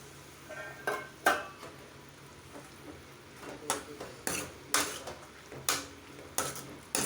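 Spoon stirring black-eyed pea curry in a cooking pot, scraping clinks and knocks coming in irregular bursts, close and fairly quiet against a low kitchen background.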